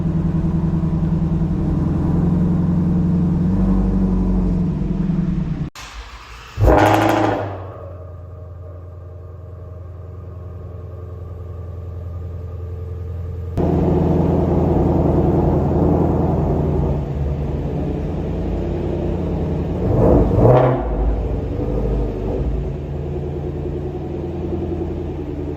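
A Ford Mustang Shelby GT350 idles with a deep close rumble, briefly cuts out, then the engine restarts and keeps burbling as the car is eased out, with occasional light revs.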